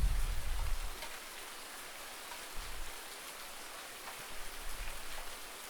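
Rain falls steadily over a farm in Farming Simulator 19, a continuous even hiss of droplets with a few low rumbles beneath.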